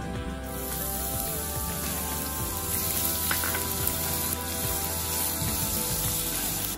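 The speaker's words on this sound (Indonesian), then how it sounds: "Sekarang ni sis goreng serai pula." Lemongrass fries in hot oil, giving a continuous sputtering sizzle up close with small pops scattered through it.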